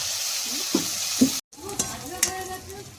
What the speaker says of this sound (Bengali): উচ্ছে ভাজা হয়ে গেছে, এবার আমি তুলে নিচ্ছি।